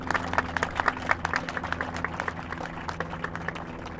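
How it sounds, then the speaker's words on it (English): Crowd clapping at an outdoor city groundbreaking ceremony, a run of distinct, close hand claps over low steady background hum, continuing for several seconds without speech. "If you don't mind giving her a round of applause."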